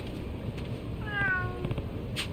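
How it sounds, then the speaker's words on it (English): A cat in Lost Judgment lets out one clear, fairly close meow that rises and falls over steady game background ambience; no speech. "But I can check in on the cats again."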